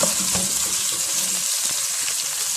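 Loud, steady sizzling of a tempering frying in hot oil for red lentil dal, a continuous crackling hiss with no voices.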